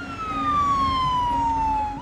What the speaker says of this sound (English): The ambulance finally arrives, and with moments to spare.